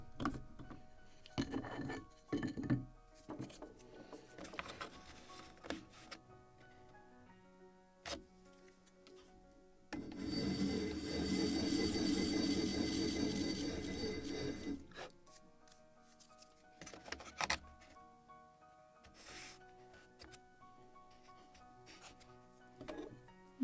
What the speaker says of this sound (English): Just a little more sanding to shape it properly.